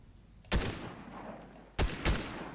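Three sharp Fortnite gunshot bursts crack out at intervals, the last two close together, over a steady background hum.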